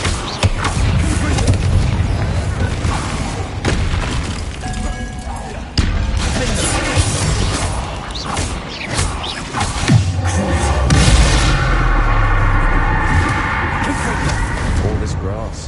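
Bombarda spell explosions in Hogwarts Legacy set off a dense, rumbling blast with crashing debris and whooshes, followed by a sustained roar that rises again toward the end, loud and continuous.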